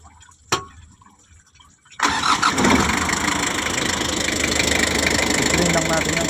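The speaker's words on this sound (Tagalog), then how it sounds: "start natin yung makina" A car engine cranks and fires up after a radiator flush, with a sharp click first, then a loud, steady running roar that settles into continuous idle with some rattly knocking underneath.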